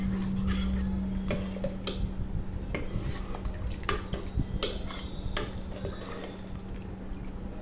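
A spoon scrapes and clinks against a pot while moong dal sambar is stirred in a home kitchen, giving a steady run of close metallic taps and scrapes with no talking.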